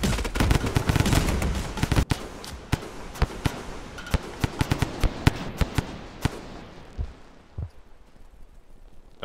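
In the video game Rain World, a minigun fires a rapid scatter of sharp cracks that start dense and loud, then thin out into sporadic shots and fade into quieter rumbling.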